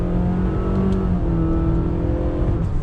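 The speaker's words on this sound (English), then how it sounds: "Second gear on throttle," A 2020 Honda Fit hatchback accelerates hard in second gear under paddle-shift control, its engine a loud, close, steady drone that climbs evenly in pitch throughout, with no talking.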